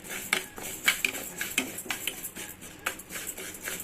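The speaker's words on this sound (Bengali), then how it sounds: "শুরুতে প্যানটাকে খুব ভালো করে গরম করে নিয়েছি, এরপরে চুলার আঁচটা মিডিয়ামের চাইতেও কিছুটা কমিয়ে রেখে আমি ডালগুলোকে ভেজে নিচ্ছি" Dry lentils roast and stir in a hot pan over low-medium heat, giving a series of light, close-up rattling and scraping clicks as the grains are moved about, with no talk.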